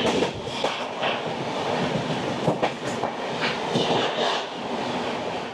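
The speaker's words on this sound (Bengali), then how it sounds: "ট্রেন নম্বর 12321, হাওড়া মুম্বাই মেল ভায়া গয়া।" Mumbai Mail, train 12321 from Howrah via Gaya, passing close by in Bihar, a steady loud roar of rolling stock with rhythmic clickety-clack of wheels over rail joints throughout.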